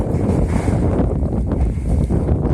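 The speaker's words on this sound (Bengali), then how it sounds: "এই যে দেখেন প্রচুর পরিমাণে বাতাস" Strong, steady wind gusting by a river, with a constant buffeting roar and a hint of choppy water, heard alone without speech.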